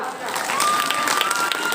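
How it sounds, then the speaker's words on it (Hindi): An audience at a quiz contest in Saidpur claps for a leading contestant, a busy spread of hand claps running continuously at moderate volume, with a faint tonal whistle or hum drifting through midway. "तालियां।"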